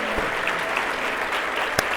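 Steady, full audience applause fills a banquet hall honoring 2016 Teachers of the Year, with a continuous wash of clapping and one sharp knock near the end.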